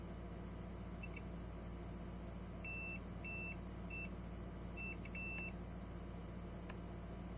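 A Retron 5 console beeps from its back, giving a short run of clipped electronic bleeps in small clusters over a steady low hum, clear but fairly quiet with no talking.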